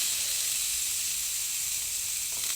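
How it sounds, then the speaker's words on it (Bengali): Beans sizzle in a hot pan, lightly fried before becoming vegetable soup, a steady hissing fry heard up close and alone. "এবার কিন্তু বিনস দেওয়া হয়েছে আসলে এখানে একটা ভেজিটেবল স্যুপ করা হবে তার আগে একটু ভেজে ভেজে নেওয়া হচ্ছে"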